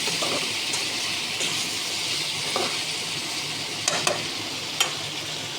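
Bottle gourd sautéing in a pan, a steady loud sizzle throughout with a few soft stirring scrapes and clinks of a spatula, no voices.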